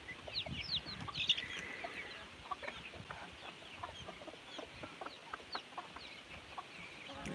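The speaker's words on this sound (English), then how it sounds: "A lot of little chicks running around." Chickens and many little chicks cluck and peep on a farm in rural South Dakota, with a scatter of high chirps and soft clucks over a quiet outdoor background.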